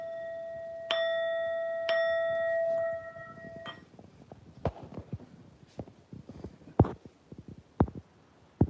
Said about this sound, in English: You get a bell for entering the chat.